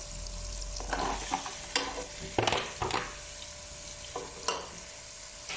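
Onion sizzling in a hot pan while being stirred, a soft steady fry broken by repeated scraping and clattering strokes of a utensil, fairly quiet and close with no talk.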